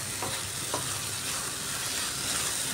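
Moong dal is sautéed in a pan, making a continuous close sizzle and frying hiss with soft stirring scrapes throughout and no voices.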